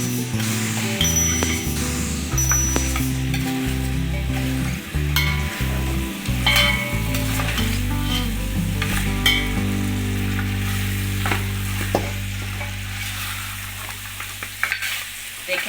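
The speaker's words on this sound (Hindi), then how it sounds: "अब जो हमने धो के पाए रखे हुए थे वो ऐड कर रहे हैं।" Washed beef trotters for Eid paye fry and get stirred in roasted masala in an open pot, with a steady loud sizzle throughout and occasional spoon scrapes and clinks against the vessel.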